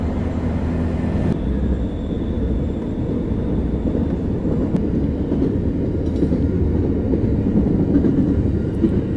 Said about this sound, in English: Look at that big train. It's enormous.